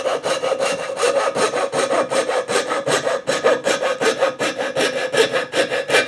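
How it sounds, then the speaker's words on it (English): A power saw rasps steadily through pinewood in quick, even back-and-forth strokes, loud and close, with no voices. "We do have a power saw."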